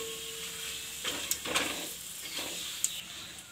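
Whole spices (bay leaves, a red chilli, cinnamon pieces, black cardamom and cloves) roasting in a pan for soya biryani, a faint soft sizzle with a few light stirring scrapes and clicks.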